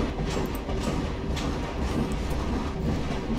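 A train carriage ride in Half-Life 2 Raising the Bar Redux: a loud, steady rumbling roar of the moving train runs throughout with faint metallic rattles and no talking.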